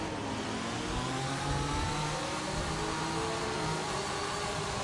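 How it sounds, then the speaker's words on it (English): Race car engines in a racing game on the Japan circuit rev and accelerate in a dense, noisy roar of several cars at a safety car restart, steady and fairly loud, with no voice heard. "Gonna wait before that line to hit the gas, and there he goes."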